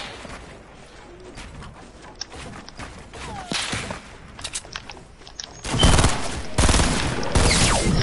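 Gunfire erupts in the Fortnite video game on PS4: scattered sharp cracks and whip-like shots build into loud, dense bursts of rapid fire toward the end.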